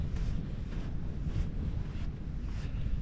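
South wind blowing through a Gascony forest, a steady, full-bodied rush buffeting the microphone with soft swells and no voices.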